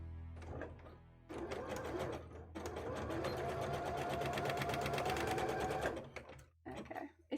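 A domestic sewing machine zigzag-stitches a section of a handmade bra, running in bursts: short runs, a pause, then a long steady whirring stretch before stopping, close by with a few faint stray sounds.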